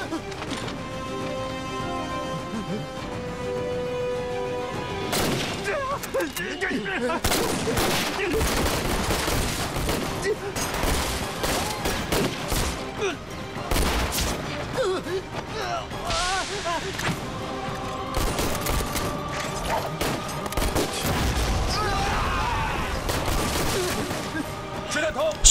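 Battle gunfire from a Chinese anti-Japanese war drama, with bursts and volleys of rifle and machine-gun fire layered over a dense, loud soundtrack and occasional voices throughout.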